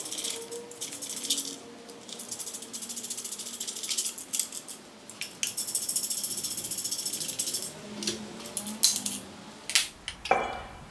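Cover bolts on a Peugeot-Citroën 1.4 KFV engine being run in by hand with a ratchet: close, repeated rapid clicking strokes in bursts with short pauses and light metallic rattles, no voices.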